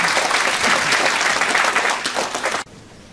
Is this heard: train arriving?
no